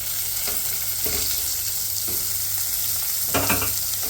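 A medium tomato frying in a pan for a soya chunk and drumstick curry, a steady close sizzle broken by a few scraping stirs, no voices.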